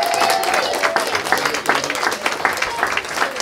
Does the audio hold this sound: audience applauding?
yes